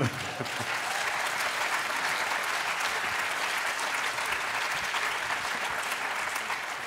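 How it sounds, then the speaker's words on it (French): Sustained, even applause from an audience at a live variety show, loud and continuous throughout with a dense wash of many hands and no distinct voices. "Applaudissez l'artiste."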